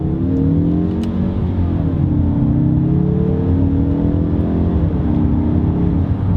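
A turbocharged Mazda3 accelerating hard, its loud engine drone rising and falling in pitch through the gears while the turbo spools up, heard from inside the car with no talking.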